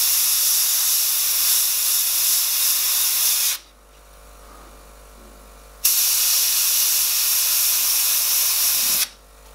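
Airbrush spraying paint for a horror portrait, a loud steady broadband hiss in two long bursts separated by a quiet pause, with a short gap at the end.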